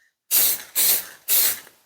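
Three quick bursts from a lacquer spray can hiss in succession, close and loud, each fading briefly before the next.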